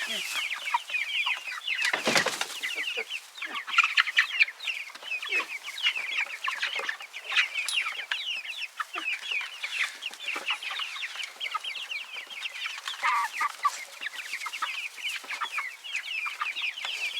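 Young chicks let out into their dirt run for the first time chirp and cluck continuously, many small birds peeping close by with one brief louder flutter near the start.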